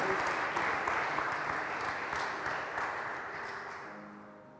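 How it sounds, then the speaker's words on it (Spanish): A church congregation applauding during a worship service, a dense, even burst of clapping that starts loud and slowly tapers off over several seconds, with no talk over it. "Denle un aplauso al Señor y terminamos celebrando este tiempo."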